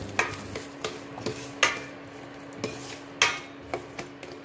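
A spoon scrapes and clinks against a metal pan as boiled beans are stirred into hot tempering, the sharp knocks spaced irregularly over a faint, steady sizzle with no talking.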